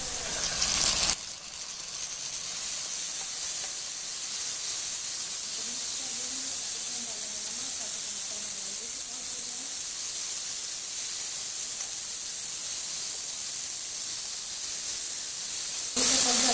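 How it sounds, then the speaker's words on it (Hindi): Chopped tomatoes sizzle in a pan of cooked onions for an egg curry, a steady, loud hiss that runs almost unbroken and alone, with a brief louder burst at the start and end. "अब इसमें हम डालेंगे कटे हुए टमाटर"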